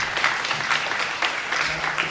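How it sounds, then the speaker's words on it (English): Audience at an AI and society panel discussion applauding the panelists, steady moderately loud clapping from a crowd that pulses slightly and continues throughout. "So round of applause for them."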